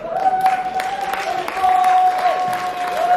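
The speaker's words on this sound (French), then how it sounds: "On peut vraiment l'applaudir doublement" Audience applause for a prize winner at a Hammer Time MMXX awards ceremony, steady clapping from a crowd throughout with a sustained tone running beneath it.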